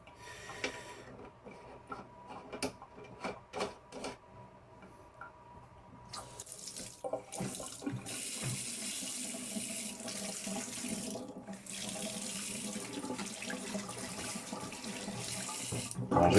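A kitchen mixer tap with a pull-out spray head, its plastic thread snapped, runs water into the sink; scattered drips and clinks first, then a steady hissing stream that grows fuller and louder toward the end.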